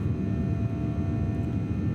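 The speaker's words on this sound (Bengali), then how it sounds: "বেশ কিছু উপরে চলে যাবে বিমানটি" Steady, loud engine roar and rushing air fill the cabin of a passenger airplane in flight, a continuous low rumble with no breaks and no voices.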